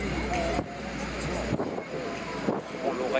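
A propeller aerobatic airplane roars through a display at an air show at Istres air base, a loud, steady engine drone with brief dips and surges as it manoeuvres, wind buffeting the microphone.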